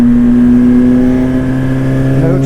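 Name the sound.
car engine revving after ECU flash, auto throttle blip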